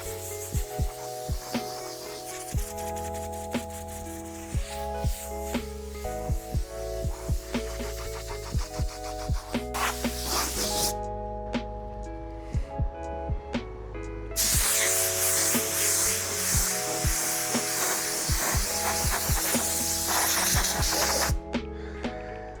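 Spray blows road grime off a car tailgate during a pre-wash. A loud, close hiss alternates with a throbbing pressure-washer motor, broken by a brief drop-out, and there is no talk.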